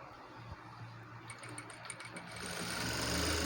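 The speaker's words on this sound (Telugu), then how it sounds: "ఇలా పైనుండి ఒక టాప్ స్టిచ్ వేసేసుకున్నాం" An electric sewing machine runs a top stitch along a blouse, giving a close, continuous whirring hum that swells louder toward the end, with no voices.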